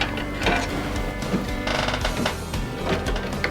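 An embroidery machine begins quilting, its mechanism clattering and ticking in a fast, steady gear-driven rhythm, close and fairly loud with no voices.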